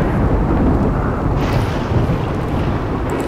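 Thunder rolls through a thunderstorm in the video game RimWorld as a loud, steady, low rumble lasting throughout, with a slight shift in texture midway and no voices.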